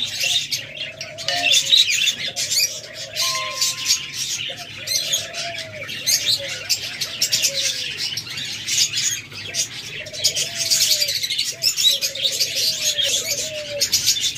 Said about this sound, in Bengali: তাছাড়া ফ্রেন্ডস অসংখ্য পরিমাণ লাভবার্ড রয়েছে, একদম সেম কালারের সেম নিউট্রিশনের।